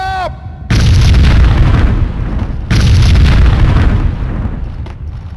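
Heavy grenade explosions in the video game Max Payne 2 boom twice in quick succession, each a loud, deep blast that rumbles and decays over a couple of seconds.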